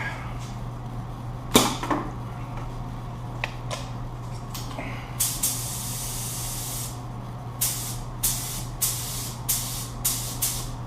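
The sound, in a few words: spray gun spraying sealer over carbon film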